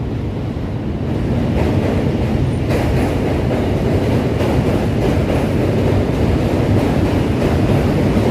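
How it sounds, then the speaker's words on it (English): Heavy, continuous rumble of trains rolling over the Manhattan Bridge in New York City, loud and close, with a deep roar and rattling that holds steady throughout. "Those trains certainly are loud."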